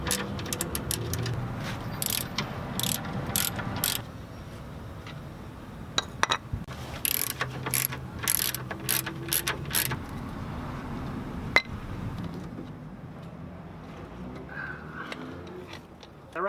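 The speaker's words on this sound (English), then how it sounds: "Now we're ready to unbolt the rack from the subframe, and on each side you've got a bracket that has two 14 millimeter bolts in it." Ratchet wrench working 14 mm bolts loose from the steering rack brackets on a Mazda Miata subframe, with bursts of quick clicking and metallic clinks spread across the clip, close and moderately loud.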